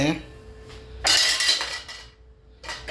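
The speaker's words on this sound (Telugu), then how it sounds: "ఈ చిన్న దబర్లో కొన్ని బియ్యం వేసి" Uncooked rice poured into a small metal container, a bright rattling clatter of grains on metal lasting about a second, then a second shorter burst, close and loud, with a faint steady hum underneath.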